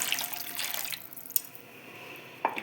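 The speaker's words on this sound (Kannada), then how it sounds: "ಇವಾಗ ಒಂದು ಅರ್ಧ ಗ್ಲಾಸಷ್ಟು ನೀರು ಹಾಕಿದ್ದೀನಿ" Half a glass of water poured into a pan of egg gravy masala, a close, brief splashing pour that tapers into a few light drips and small clinks, with no one talking.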